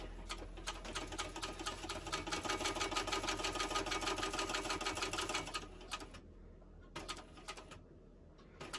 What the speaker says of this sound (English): Start at the bottom and back stitch.